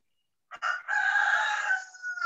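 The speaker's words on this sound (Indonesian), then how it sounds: "Seneng banget suara ayam." A neighbour's rooster crows close and loud, a short note followed by one long sustained cock-a-doodle-doo, heard alone without talk.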